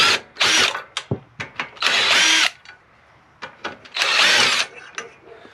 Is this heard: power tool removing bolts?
yes